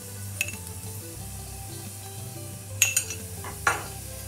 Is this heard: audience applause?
no